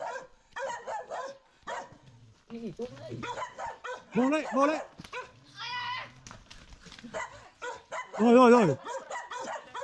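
Several dogs bark and yip excitedly at a rural Vietnamese house, sharp bursts in quick runs, some loud and near, mixed with people talking throughout.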